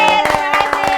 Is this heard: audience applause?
yes